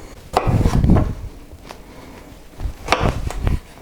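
Vegetables being chopped on a board for a Bengali chorchori vegetable stew, including cauliflower, heard as a few close knife strikes in irregular bursts with soft rustling between them.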